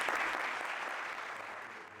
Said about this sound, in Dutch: Mensen applaus.